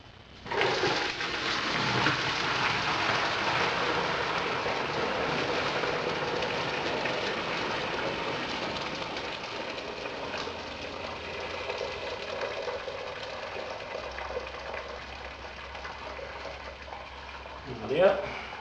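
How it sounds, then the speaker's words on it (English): Homemade ginger beer pours through a strainer into a fermenter, a steady splashing rush of liquid lasting most of the stretch before tapering off, with a brief clatter at the end. "I'm just going to pour this into the fermenter, letting the strainer catch any of the extra bits"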